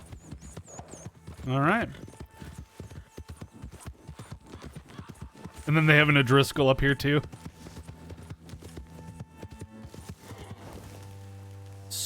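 A horse's hooves in the video game Red Dead Redemption 2, a steady clip-clop under someone talking and bursts of character dialogue.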